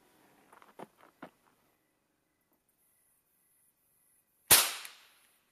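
Kel-Tec P17 .22 pistol firing a single subsonic round, one sharp loud crack near the end with a short decaying tail, preceded by a few faint handling clicks.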